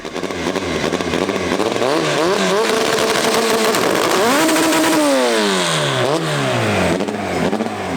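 A heavily modified red Honda Civic engine at a dragstrip revs hard and loud, pitch climbing and dropping in repeated sweeps through an aggressive, buzzing exhaust note with no talk.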